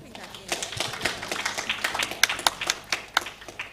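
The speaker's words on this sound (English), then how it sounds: "Let's give her a round of applause for putting that" A conference audience claps for a presenter, with scattered uneven hand claps that thicken toward the end, while a voice talks over them.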